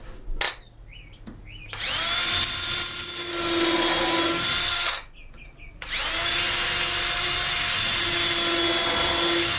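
A power drill drives 3-inch star head deck screws into wood at the corners of a table, with two long whining runs of several seconds each, rising in pitch as they start, separated by short pauses and a few clicks.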